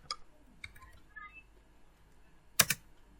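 Fingers type on a computer keyboard, sparse faint key clicks scattered through a quiet stretch, then a louder quick burst of two or three taps near the end.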